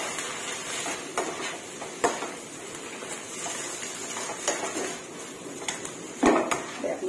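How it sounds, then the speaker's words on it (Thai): Chinese cabbage being stir-fried in a pan for a cabbage-and-egg dish, with a spatula scraping and clattering against the metal at an irregular pace over a low, steady background hiss. "เดี๋ยวผัดผักให้สุกก่อน"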